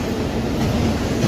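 A CSX freight train of empty autoracks, running westbound from Philadelphia to Louisville, rolls steadily past Dorsey Station with a continuous loud rumble and faint wheel clatter, with no voices.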